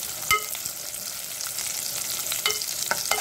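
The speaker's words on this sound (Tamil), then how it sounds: "காஞ்ச திராட்சை நல்லா ஃப்ரை ஆகட்டும்" Dried raisins fry in hot fat in a pan for sweet pongal, giving a steady gentle sizzle with occasional light stirring taps against the metal.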